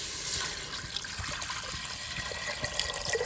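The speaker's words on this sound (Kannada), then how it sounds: "ಈಗ ಇದಕ್ಕೆ ನೀರನ್ನ ಹಾಕ್ತಾ ಇದ್ದೀನಿ." Water poured into a cooker of frying chicken for soup, a soft close trickle and splash over a low sizzle, no voices.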